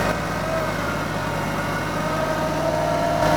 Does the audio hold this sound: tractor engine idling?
yes